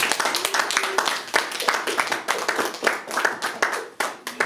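A congregation at a church service claps in an uneven, rhythmic burst, loud and close with individual hand strikes audible throughout.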